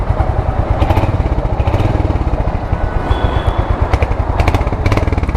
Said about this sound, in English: the exhaust sound is quite bassy